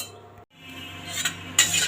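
Masala spices being dry roasted in a pan for Punjabi samosa: metallic scrapes and clinks of a utensil against the pan, a brief pause, then louder scraping strokes near the end, with no talking.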